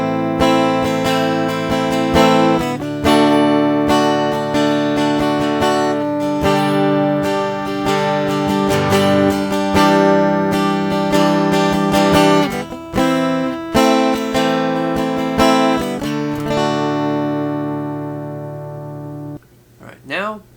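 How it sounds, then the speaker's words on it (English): Holdsworth Fatboy guitar played through its piezo pickup straight into an audio interface, producing a bright, close, loud stream of strummed chords and picked notes with sharp attacks, fading out at the end. "here's the sound of the piezo pickup directly into the interface"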